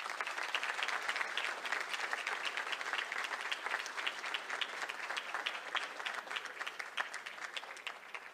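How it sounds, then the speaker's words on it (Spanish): Steady, sustained applause from an audience honoring police officers at a recognition ceremony, dense clapping filling the whole stretch at an even level with no voices standing out. "Fuerte el aplauso para ellos."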